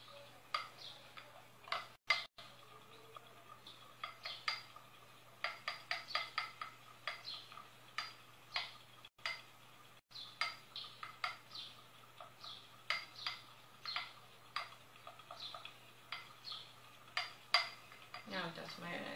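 A utensil stirs homemade mayonnaise in a bowl, making a steady run of quiet, rhythmic clinks and ticks against the bowl, close up, continuing for many seconds with brief pauses.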